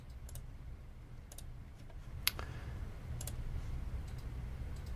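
Sparse, quiet clicks of keys being tapped on a computer keyboard at a medical charting workstation, scattered singly and in small clusters over a low, steady room hum.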